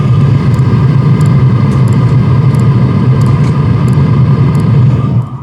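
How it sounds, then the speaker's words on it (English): An Hcalory Toolbox MAX diesel heater's exhaust pump runs with the microphone held right against it, giving a loud, steady low hum with faint regular ticks above, cutting off at the end. "Like I can very faintly hear the exhaust pump."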